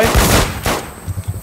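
Bursts of gunfire from The War Z, several loud shots in quick succession up front, then a few shorter thumping reports trailing off, with no talking.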